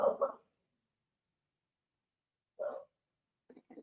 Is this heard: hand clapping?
no